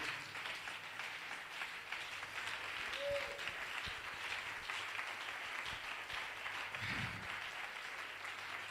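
A church congregation applauding to acclaim the Lord: faint, distant, continuous clapping that holds evenly for several seconds.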